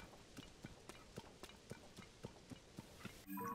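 Steady rhythmic hoofbeats of a galloping horse in the video game Zelda: Tears of the Kingdom, evenly spaced and fairly faint, ending with a sudden burst of louder sound.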